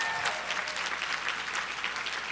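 An audience at a high school top seniors recognition ceremony applauds steadily, a dense, even wash of clapping from many hands filling the hall.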